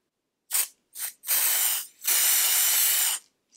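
An aerosol can of nail polish spray sprays in short bursts: two brief puffs, then two long steady hisses, loud and close, with silence between.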